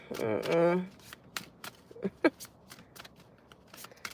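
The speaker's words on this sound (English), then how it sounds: "Oops, I'm shuffling the wrong way." A deck of tarot cards is shuffled close by, with a soft riffling burst followed by scattered light card snaps and slides, after a short stretch of someone talking.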